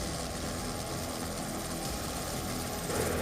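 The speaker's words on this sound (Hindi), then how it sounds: "ये रूस में बने MI-17 हेलीकॉप्टर हैं, जिन्हें काबुल के ऊपर तालिबानी उड़ा रहे हैं।" Russian-made Mi-17 helicopters fly over Kabul, a steady broadband rotor and engine roar that stays constant throughout at moderate distance.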